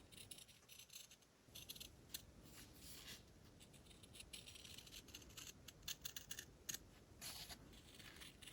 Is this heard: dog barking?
no